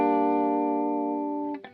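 A recorded electric guitar part plays back dry without effects: one sustained chord rings clean and steady, then cuts off near the end followed by a couple of brief muted plucks.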